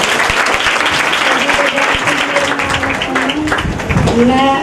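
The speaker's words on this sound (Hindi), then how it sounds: "जोरदार तालियां बजाते रहो" Sustained loud clapping fills a Sunday church meeting as the congregation keeps applauding, a dense roar with speech and some tonal sounds blended in near the end.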